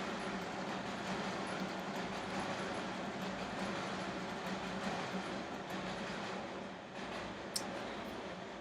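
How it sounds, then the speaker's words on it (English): A train rolls past nearby in a steady, loud rumble of rail noise with faint clickety-clack, filling the whole stretch with no speech over it. "So, sorry about the train."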